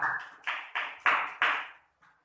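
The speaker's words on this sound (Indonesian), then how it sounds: "Tepuk tangan buat kelompoknya Salman dan Tifa." Classroom applause for a student group, a short burst of about six sharp, separate hand claps, close and fairly loud, fading after the last clap with no talking.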